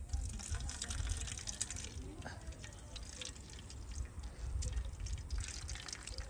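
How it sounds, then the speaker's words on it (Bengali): Liquid from squeezed jackfruit pulp drips and trickles steadily into a container, a light, wet patter up close, with a few faint background sounds. "এই দেখুন কত সুন্দর লিকুইডটা পড়ে যাচ্ছে।"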